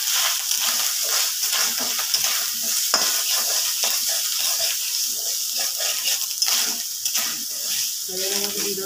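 Grated coconut is tipped into hot oil with panch phoron while cooking colocasia leaves, giving a steady, close sizzle of frying that runs throughout with faint stirring noises.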